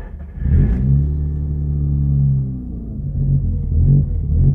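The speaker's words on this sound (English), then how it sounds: "See, it hits the fast idle for a second or two." An R3 car with a starting fault fires up and settles into a loud, steady fast idle with a droning hum, drops lower for a moment, then revs back up unevenly.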